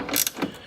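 Wrench ratcheting on a corroded battery cable terminal stud at the firewall of a Ford Focus ST, two quick close clicks of the pawl within under a second, with no talk.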